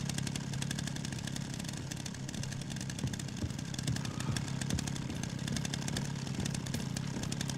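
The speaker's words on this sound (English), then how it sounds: "I don't really want to put down this chainsaw" A chainsaw runs in a video game, a steady buzzing engine drone that holds continuously at moderate loudness, with a faint rasping texture and no speech over it.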